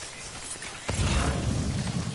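Steady broadband hiss of rain falling in the video game Death Stranding, the wash thickening and growing louder about a second in, then holding as a continuous close downpour with no talk.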